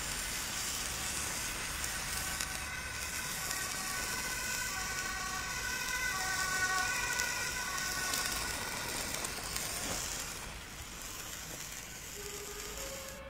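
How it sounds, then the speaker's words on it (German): Emergency vehicle sirens wail outside in rising and falling tones, moderately loud and steady for several seconds before fading away, over a hissing background. "Genau jetzt kamen die Sirenen"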